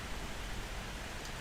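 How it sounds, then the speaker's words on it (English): Steady late-night rain from a thunderstorm, a soft continuous hiss of falling drops at low volume with no distinct thunder claps. "Late night thunderstorm to game in."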